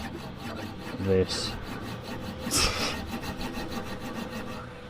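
Cutting through a seized inner tie rod on a Fiesta ST, with a steady rasping saw-like scrape running throughout and a couple of louder bursts, plus a brief spoken word.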